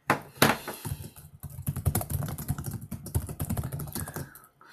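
Fingers type steadily on a computer keyboard, a close stream of quick, uneven key clicks and taps with short pauses between bursts.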